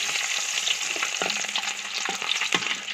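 Garlic browning in hot oil with fenugreek for a Kerala toddy-shop catfish head curry, a dense continuous sizzle broken by several sharp spoon scrapes against the pan, close and loud, no talking.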